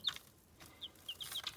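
Hens kept indoors before moving to a garden hen house give several short, quiet clucks and chirpy calls, scattered irregularly over a faint room background.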